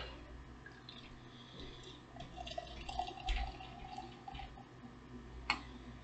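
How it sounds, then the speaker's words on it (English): Beer is poured into a glass at a desk, producing a quiet, continuous liquid trickle with soft fizzing and small splashes, faint and close with no talking. "So I'm going to pour the beer, take a sip, let you know what I think"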